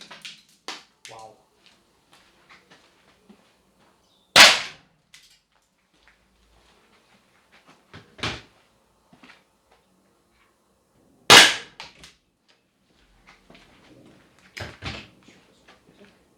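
An Umarex HDR 50 revolver fires at a target in two sharp, loud cracks several seconds apart, each followed by a quieter knock or impact, with soft handling clicks between.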